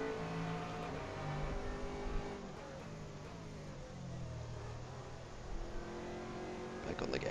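A GT3 race car engine accelerating at Silverstone, a rising, buzzing roar that climbs through the gears at steady volume, with someone talking over it.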